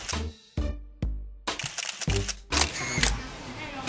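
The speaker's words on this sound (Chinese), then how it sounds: "咔嚓咔嚓按下快门" A camera shutter fires repeatedly during blind street shooting, sharp close clicks in an uneven run of about eight, with a denser clatter of rapid shots toward the end.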